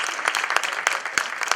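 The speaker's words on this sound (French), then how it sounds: "Alors on applaudit ça." Crowd applause at a 90th birthday celebration, steady clapping from a gathered audience with sharper individual claps standing out, fairly close and filling the room without voices.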